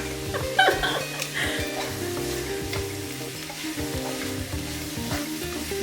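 Sliced mushrooms fry in a pan for a veggie lasagna, a steady close sizzle with scattered spatula scrapes and a few soft knocks, and no speech over it.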